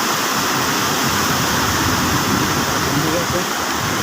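Floodwater rushes down from the mountains near Rizal during heavy rain, a loud, steady roar of torrential water and downpour filling the whole stretch without letup.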